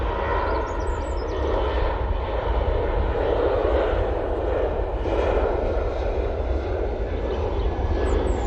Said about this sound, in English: it's a 737-800, wasn't it, that one?